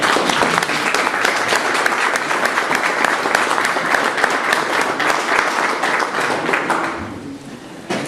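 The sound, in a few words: audience applause at a conference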